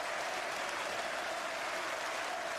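A cricket crowd at the 2005 Ashes applauds Flintoff's first century against Australia, with dense clapping from many spectators. The applause is steady and sustained from beginning to end, heard from a distance with no distinct voices.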